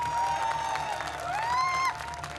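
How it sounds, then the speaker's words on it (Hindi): Rally crowd in Jamui, Bihar, clapping and cheering in a continuous roar, with a shrill whistle or whoop rising over the applause toward the end. "लेकिन ये तालियां बता नहीं रही हैं कि ये जमुई वालों की तालियां हैं।"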